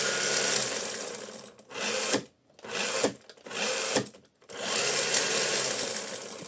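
The small electric motor of a 1/10 scale HB Toys ZP1001 4x4 Land Rover Defender RC car whirs loudly as wheels spin, cutting out briefly a few times before spinning back up and running steadily.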